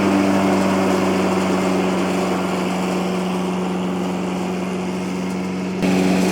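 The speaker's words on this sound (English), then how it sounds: "the blower is blowing the stuff all the way out to the left side" A blower powered by a small engine runs in a chestnut orchard, a loud, steady, close droning hum with no pauses, dipping only briefly near the end.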